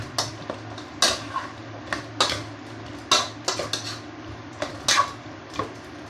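Chicken with tomatoes being stirred in a pan for kinamatisang manok, a spoon knocking and scraping the metal in a loose, repeated rhythm, close and fairly loud with no talk.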